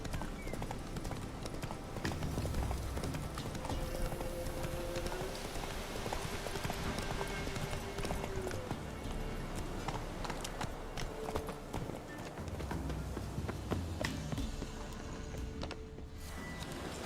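Hooves of Roach, a horse in The Witcher 3, clip-clopping in a steady run with faint mechanical creaks and gear-like sounds behind, fairly quiet and continuous over about seventeen seconds, with no talk.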